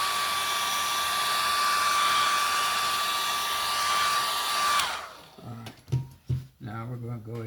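A hair dryer blows steadily and loudly with a high whine while drying acrylic paint on a stretched canvas, then switches off around five seconds in and winds down, after which a person begins talking.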